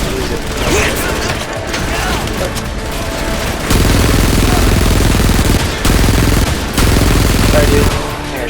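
Video game gunfire in Frontlines: Fuel of War, with rapid automatic bursts and sustained loud fusillades broken by short gaps, overlaid with mechanical clatter of weapon handling.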